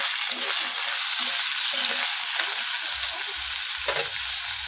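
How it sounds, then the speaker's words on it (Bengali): Cauliflower and potato pieces fry with onions in hot oil, a steady bright sizzle with occasional low knocks of stirring, close and continuous. "সেই ফুলকপি আর আলুটা ভালো করে ভেজে নেব।"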